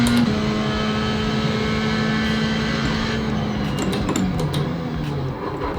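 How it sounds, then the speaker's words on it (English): A Fanatec CSL wheelbase during iRacing sim racing in an MX-5 gives a series of sharp metallic clanks and rattles toward the end, over a continuous droning engine sound from the game. "you can sort of like hear the metal clanking and shit"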